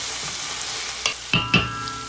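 Chicken curry stirred in hot oil in a pan, a soft steady sizzle broken by a few sharp scraping and clanking strokes of the spoon near the end, no talking.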